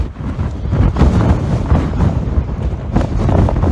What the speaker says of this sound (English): All this wind has dried a lot of stuff out